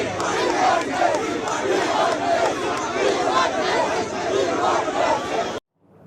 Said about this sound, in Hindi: होटल के बाहर भी वी वांट मेसी के नारे गूंज रहे थे।